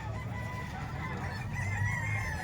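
A Talisayin rooster crows at a farm sale in Calumpit, a drawn-out call carried over steady low background noise with no talk.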